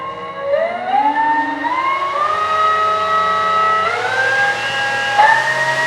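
An E-flite Carbon-Z T-28 RC plane's electric motor spins a 3-blade prop, a loud, steady whine that climbs in pitch in stepped surges as the throttle rises, with no talking.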